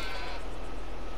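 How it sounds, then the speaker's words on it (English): Sheep in the Farming Simulator 22 video game bleat loudly and close up, with a burst of overlapping animal cries over a steady background hum. "our sheep are going through that feed quite well"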